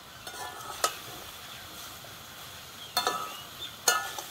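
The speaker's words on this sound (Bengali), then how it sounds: "বন্ধুরা, আমি কিন্তু ভালো করে কষিয়ে নিচ্ছি।" Brinjal and mixed vegetables sauté in a pan with little oil and spices, giving a steady low sizzle broken by a few crisp spatula scrapes and knocks against the pan.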